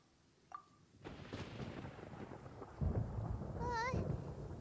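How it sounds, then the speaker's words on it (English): A crack and long rolling rumble of thunder in the video game Genshin Impact, moderately loud with rain-like hiss, following a brief electronic chime. "Paimon hears thunder!"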